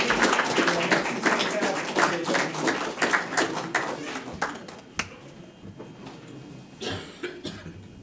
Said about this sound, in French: Une bonne main d'applaudissement pour Nico République.